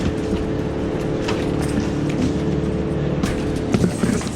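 An Electric Eel Model C drain cleaning machine running at about 500 RPM, a constant loud motor drone with a low mechanical hum and rattling cable noise, close and steady throughout.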